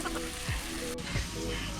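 Fish frying in a pan, a steady close sizzle with a few soft stirring or scraping swipes, no voices.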